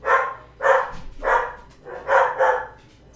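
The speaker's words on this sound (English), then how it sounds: "dog's just going nuts" A dog barks in five loud, close bursts at an uneven pace, with brief pauses between them and no talking.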